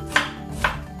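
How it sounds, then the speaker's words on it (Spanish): A knife chops through an onion on a cutting board to finish a brunoise, two crisp, close cuts about half a second apart. "Y luego voy a girar la cebolla y le voy a dar el corte final y sale ya toda la brunoise de la cebolla"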